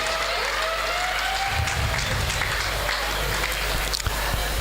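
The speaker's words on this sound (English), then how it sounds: "deserves a loud round of applause, ladies and gentlemen" A crowd applauds steadily, dense clapping filling the whole stretch with no voices over it.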